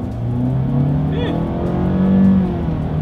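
A 2021 Nissan Altima AWD sedan pulls away from a standstill, its engine droning and rising steadily from inside the cabin.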